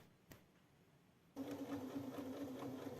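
Near silence, then a sewing machine starts up and stitches steadily along the outline of fur slippers, a quiet, even mechanical hum with rapid needle ticking.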